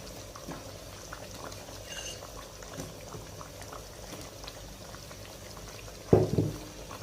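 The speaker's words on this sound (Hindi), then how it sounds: "अब आपने हाई फ्लेम के ऊपर इसको 10 से 12 मिनट के लिए आलूओं के साथ भूनना है गोश्त को" Mutton and potatoes cooking in a pot over high flame, a steady bubbling and simmering with a brief louder clatter near the end, no voices.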